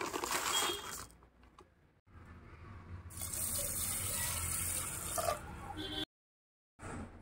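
Water pours from a tap into a vessel of biryani rice to soak it, a close rushing gush with pauses and shifts as the flow is stopped and restarted.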